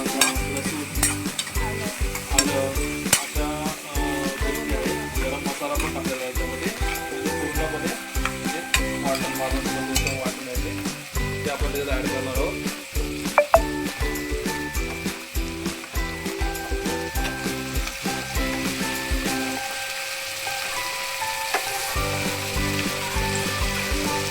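Malvani-style ground masala paste with fresh coconut sizzles loudly in a pan of chole while being stirred. Rhythmic scraping strokes sound over the frying, with a faint tonal hum throughout.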